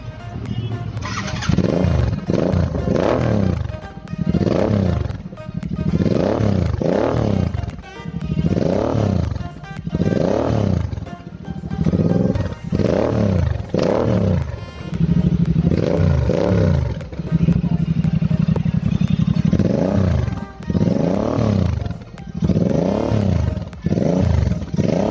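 Royal Enfield Interceptor 650 fitted with an Atom small barrel exhaust and no dB killer, its loud, throaty engine note revving repeatedly in rising and falling bursts over a steady idle rumble, close up with no talking.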